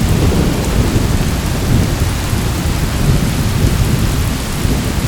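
Steady, loud downpour of rain with deep rolling thunder rumbling continuously through a nighttime storm at a lakeside campsite, no voices, broadband wash from start to finish.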